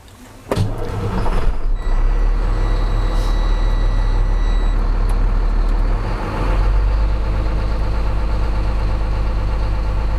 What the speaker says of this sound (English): So you want to start the engine.